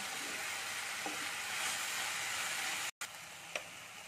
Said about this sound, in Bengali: আমি আদার উপরে ভাজছি